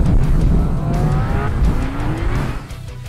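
A Chevrolet Camaro ZL1 1LE launches on a drag strip in launch mode while struggling for grip; a loud, close engine roar with rising revs and tire squeal fills the whole stretch without a break.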